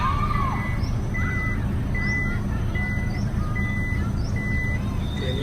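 A Toyota Vellfire's power boot operates with a series of short, evenly spaced electronic beeps over a steady background hum of the vehicle.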